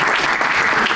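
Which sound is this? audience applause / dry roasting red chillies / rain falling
audience applause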